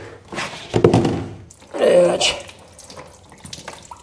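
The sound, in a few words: water pouring out after unscrewing a water tank bolt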